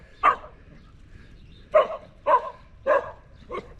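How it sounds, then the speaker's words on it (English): Des the cow dog barks on a nasty, rainy, muddy farm day, one bark followed after a pause by four more spaced barks, moderately close with light background noise. "there's Des the cow dog"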